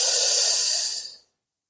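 A single long breath during a breathing exercise, a loud close airy hiss held for about a second before cutting off into silence.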